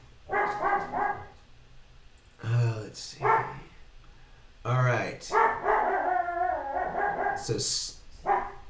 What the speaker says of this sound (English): That's my dog. I think he's greeting the postman.